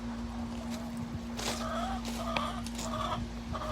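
A small backyard flock of about nine hens by a homemade coop gives a few short, close clucks in scattered bursts over a steady low hum and outdoor noise.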